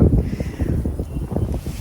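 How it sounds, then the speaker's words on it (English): Steady, rough winter wind buffeting the microphone in a garden, a loud low rumble that surges and dips throughout with no voices. "it is too windy for you to probably even hear what I'm saying"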